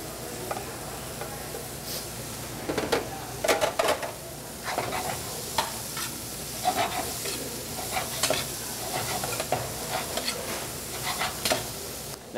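Red onions and green peppers sizzle in a pan for rustic marinara, a constant frying hiss broken by frequent scraping and tapping of a spoon as they are stirred, close and moderately loud.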